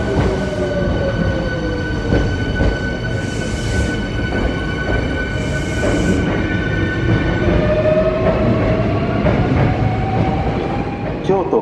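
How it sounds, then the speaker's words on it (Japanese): A Hankyu Kyoto Line train at Takatsuki-shi station, heard from the platform as a steady rumble with rail clatter and rising whining tones while it moves through, with faint announcements underneath. "京都河原町方面へ向かう電車が到着します。"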